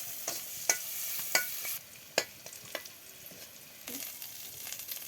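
Chopped onion and garlic sizzle and fry in hot oil for a dumur (fig) bhaji dish, with a steady hiss punctuated by sharp scraping stirs of a spatula against the pan; no one speaks.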